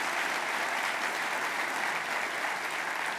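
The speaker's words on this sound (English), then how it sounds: "how about a round of applause for the totality of what the Devon Tower has meant for the city?" A large audience at a city State of the City address applauds, a dense, steady wash of clapping that holds evenly at a strong level without pause.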